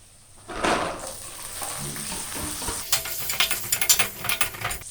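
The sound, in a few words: green peas added to pan of cooking potato egg curry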